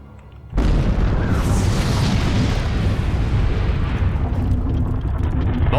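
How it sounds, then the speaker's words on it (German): A sudden, massive video-game explosion erupts after a brief lull and becomes a sustained, dense roar of rumbling debris and crackle, loud and close. "Eine derartige Explosion habe ich noch nie zuvor gesehen."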